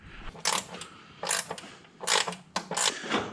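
A ratchet wrench turns a 10 mm bolt on a Jeep XJ fender mount, making several short bursts of close, bright clicking separated by brief pauses.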